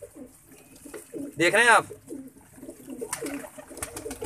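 Pigeons cooing close by while they peck at scattered grain, one loud throaty coo rising over soft rustling and pecking, with someone talking quietly throughout.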